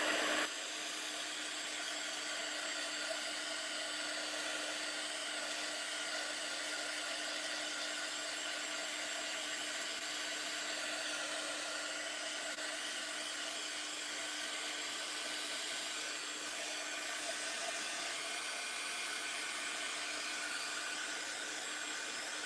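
A heat tool runs continuously to dry ink on a craft background, a steady, close whirring blow with a constant hum that holds unchanged for the whole stretch, with no talk.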